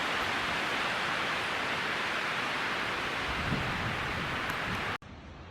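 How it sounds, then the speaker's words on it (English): Broad, steady roar of wind rushing through trees, loud and unbroken, cutting off abruptly near the end. "That's the sound of the wind up in the trees."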